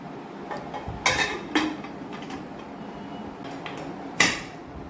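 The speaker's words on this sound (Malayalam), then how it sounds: "ഇനി നമുക്ക് കുക്കർ അടച്ചു വയ്ക്കാം." A pressure cooker lid being fitted and closed in a home kitchen: a few sharp metallic clanks and clatters, with two close knocks early on and a final loud clack near the end, amid quieter handling, no speech.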